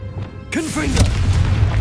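A booming blast from the Confringo spell in Hogwarts Legacy, a sudden loud burst followed by a rumbling low tail, while a voice speaks over it.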